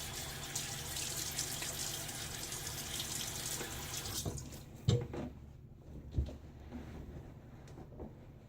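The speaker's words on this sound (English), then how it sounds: "I'm going to hit my face with some water again." Running tap water pours steadily into a sink during a morning wet shave, then cuts off, leaving a few brief splashes and drips as water is patted onto the face.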